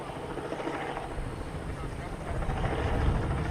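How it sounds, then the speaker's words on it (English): A helicopter drones overhead during a search near mangroves in St. Petersburg, Florida, a steady rumbling low engine hum that swells louder toward the end. "Hear the helicopter overhead too?"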